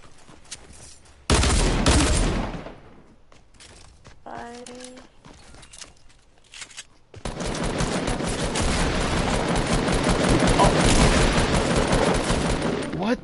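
Bursts of rapid gunfire in the video game Fortnite, a short loud volley followed later by sustained dense firing, with people talking between the shots.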